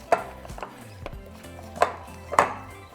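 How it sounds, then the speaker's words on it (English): Wet masa dough is kneaded by hand for tacos, giving a few soft, dull slaps and thuds at an uneven pace, close and alone. "now we're just going to knead for about 5 minutes until it's nice and soft"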